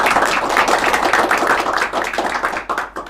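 A crowd applauds with dense, steady clapping that carries on for a few seconds and thins out slightly toward the end.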